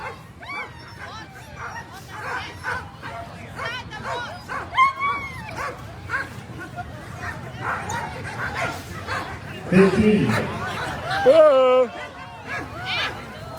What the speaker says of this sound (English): Boy, that's a happy dog team